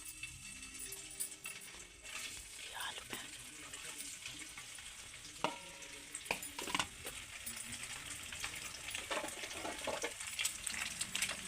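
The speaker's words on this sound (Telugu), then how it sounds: "ఈ ఎగ్స్ అన్నీ మనము ఆయిల్లో వేయించుకుందాం" Cut eggs frying in hot oil in a home kitchen, giving a soft, steady sizzle with scattered small clicks and scrapes throughout, fairly faint and with no talking.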